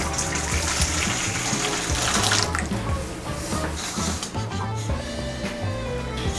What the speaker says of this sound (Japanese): 70度ぐらいのお湯でこの花芽をちょっと洗うそうです